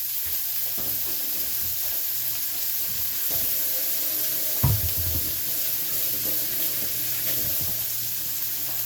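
Water runs steadily from a kitchen faucet as hands are washed, with a soft hiss and splashing, a brief clunk midway, and no one speaking.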